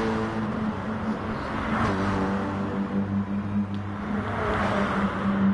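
Race cars in a racing video game drone steadily with layered engine tones that rise and fall as the cars battle for the lead, loud and continuous, with no talking.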